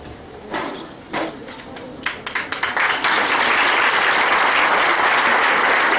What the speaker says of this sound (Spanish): El aplauso para el Padre